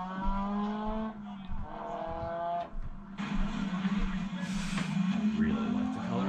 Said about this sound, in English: Look, he's even doing a burnout.